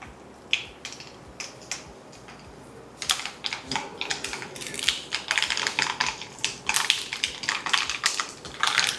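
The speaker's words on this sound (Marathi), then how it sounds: "तेल गरम झाल्यानंतर यामध्ये घालू आपण मोहरी." Mustard seeds crackling and popping in hot peanut oil for a spicy garlic pickle, starting sparse with a few sharp pops, then bursting into dense, rapid spattering from the third second on.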